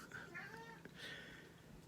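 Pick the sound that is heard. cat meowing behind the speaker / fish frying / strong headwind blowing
cat meowing behind the speaker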